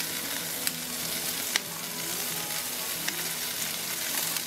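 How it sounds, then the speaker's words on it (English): Chopped onions sauté on a hot griddle in little haystacks for bacon onion cheeseburgers, giving a steady, close, continuous sizzle with a few sharp crackles and pops and no talking. "let me get them onions sauteing up a little bit"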